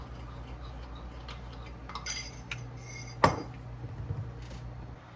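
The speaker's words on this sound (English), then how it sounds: "I'm going to go wash up dishes" Dishes and cutlery being washed by hand in a home kitchen, with scattered clinks and clatters of utensils and pans against each other, one sharper knock partway through, over a steady low hum.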